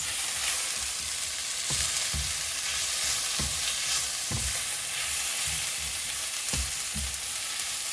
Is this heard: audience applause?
no